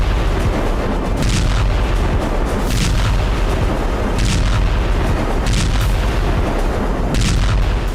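Heavy booming blasts from Russian attacks on Ukrainian positions in Odesa, wartime bombardment rolling in as a dense, continuous low rumble with several sharper bursts standing out across the whole stretch.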